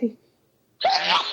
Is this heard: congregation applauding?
no